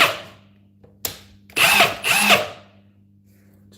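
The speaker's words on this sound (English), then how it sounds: "Just like that, impact wrench." A repaired impact wrench spins up in two short close bursts, loud whirring with a faint hum between, after a brief click, no talk.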